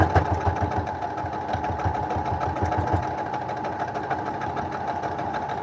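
A sewing machine stitches quilting seams with a rapid rhythmic mechanical chatter, close and steady, the pulsing thinning out into a continuous hum after a few seconds.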